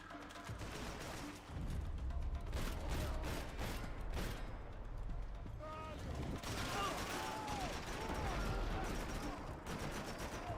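AK rifle fire in Max Payne 3 comes as rapid bursts of gunshots mixed with mechanical clatter and game effects, loud and dense, interrupted by a short lull before more shooting, with a voice talking over parts of it.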